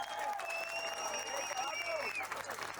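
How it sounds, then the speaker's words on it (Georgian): A crowd applauds the fighters at a Georgian featherweight title bout, the clapping steady and dense under a voice, with sustained tonal whistling over it. "აპლოდისმენტები მებრძოლებს."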